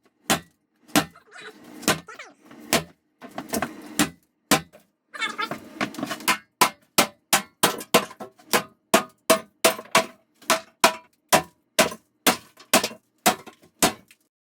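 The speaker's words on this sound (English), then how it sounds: "So we were going at it with a sledgehammer" Sharp, heavy sledgehammer blows smash a cast iron bathtub during a bathroom demolition, the impacts spaced at first and then coming in a fast, regular series of loud metallic cracks with some debris clatter between.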